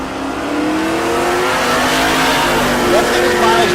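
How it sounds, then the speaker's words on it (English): Drag racing cars do burnouts at Tulsa Raceway Park, a loud continuous engine roar with revving and tire squeal that holds steady throughout, with a commentator's voice under it. "Next pair doing their burnouts."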